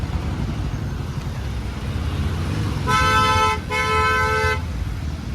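Busy road traffic rumbles steadily, including a new tractor, while a car horn blares twice in long, loud blasts.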